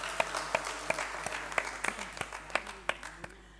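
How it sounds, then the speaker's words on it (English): Sparse clapping in a hall during a valedictory ceremony at a training institute, a handful of distinct sharp claps in an uneven rhythm rather than a full ovation, fairly soft and slowly thinning out. "Please welcome ma'am with a huge round of applause."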